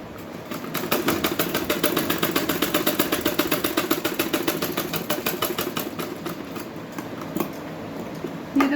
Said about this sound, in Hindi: तो देखो यहाँ पे भी मैं सिलाई बैक करके लगा रही हूँ।